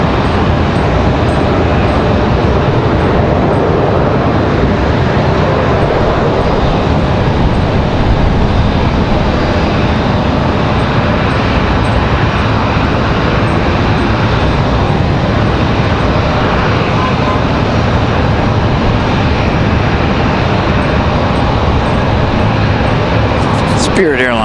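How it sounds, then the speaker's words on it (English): A Spirit Airlines jet arriving from Fort Lauderdale touches down at Raleigh Durham airport, a steady, loud, broadband roar of engines and rushing air that holds throughout the clip. "Spirit Airlines touching down from Fort Lauderdale."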